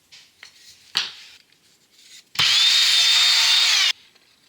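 A power tool cuts a timber skirting board to size during a loft conversion, a few short knocks and handling bumps before a loud, steady high whine that runs for about a second and a half, then stops.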